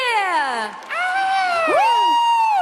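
A crowd cheers for Potap and Nastya with loud shrill whoops, whistles and sliding shouted cries that carry on steadily without a break.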